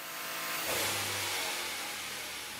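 A Bugatti Chiron 1500 hp engine runs on a test bench, a steady loud mechanical roar with a brief swell in intensity early on, then holding a sustained drone with no voices.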